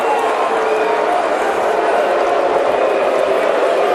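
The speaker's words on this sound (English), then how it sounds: "Crowd doesn't like it." A baseball stadium crowd at a Yankees versus Red Sox game voices disapproval in a steady, loud roar and murmur that fills the whole stretch without letting up.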